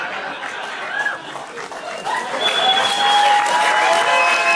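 A comedy club audience in Austin breaks into applause that swells and thickens over a few seconds, with whistles cutting through the clapping and cheering.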